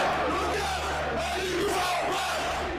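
A protest crowd shouting and yelling as police push it back, a dense, continuous roar of many voices with rising cries, loud and close throughout.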